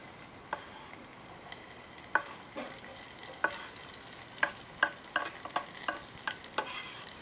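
Onions frying in oil in a small pot, a faint steady sizzle under a run of light stirring taps and scrapes that come more often toward the end, with no talking.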